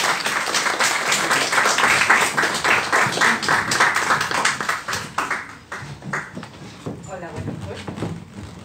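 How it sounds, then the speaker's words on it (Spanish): Sustained audience applause for a speaker at an international seminar lecture, dense steady clapping that fills the room and gradually thins toward the end, with a voice speaking faintly underneath. "Le damos un fuerte aplauso."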